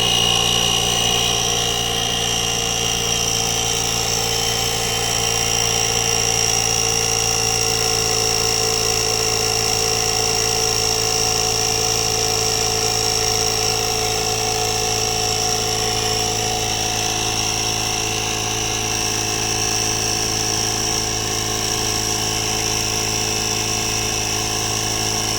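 A Carsun multifunctional digital car tyre pump runs continuously with a steady, loud mechanical drone and buzzing whine that holds unbroken throughout, with no voices.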